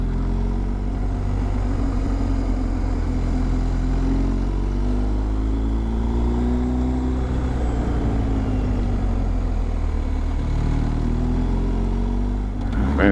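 A motorcycle engine drones loud and close through second-gear turns on a scenic road trip, a steady rumbling note that rises and falls with throttle across the whole stretch, with wind noise mixed in.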